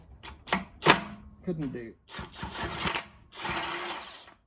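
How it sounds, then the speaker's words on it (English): A DeWalt impact wrench on setting 3 hammers loose a rear hub nut on a Mercedes 107 SL. A close, rattling burst of about one second comes right after a man's brief spoken remarks. "Using the setting number 3 on this DeWalt impact wrench here"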